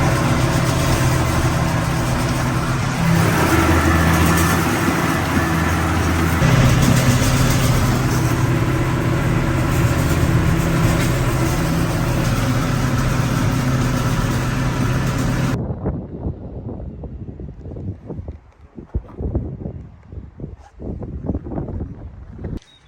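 A tractor engine starting up for grass cutting runs loud and steady at close range, with a heavy low rumble, then cuts to quieter, uneven rumbling and knocks after about fifteen seconds. No one speaks.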